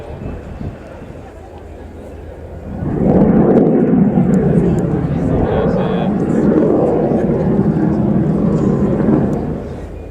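A Dassault Rafale C jet of the French Air Force roars through an airshow display at RIAT, its broad rumble swelling as it passes overhead and holding loud before easing, while a commentator talks over it.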